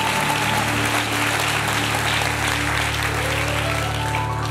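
A church congregation cheers and applauds in a large hall, a dense, continuous wash of clapping and crowd noise that stays loud and even throughout.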